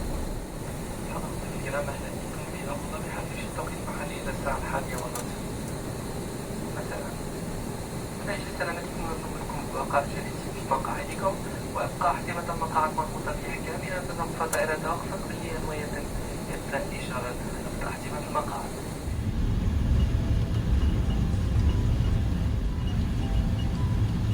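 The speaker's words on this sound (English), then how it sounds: "then we taxied for another 10 minutes before reaching our remote stand" Etihad Airbus A330-300 taxiing after landing in Abu Dhabi, heard from the cabin as a steady engine hum and rumble with cabin noise. Around the 19-second mark the sound swells into a louder, deeper roar. People talk in the background.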